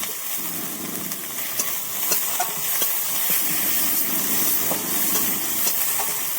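Turmeric and ginger-garlic paste frying in a pan give off a continuous hissing sizzle, with scattered clicks and scrapes of stirring close by and no talking.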